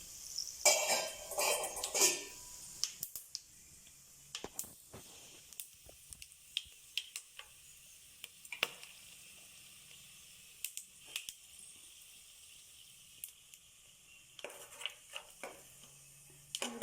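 Whole spices splutter in hot oil while mushroom biryani is being made, giving faint, scattered crackles and sharp pops with a few louder clinks of cookware, and no talking.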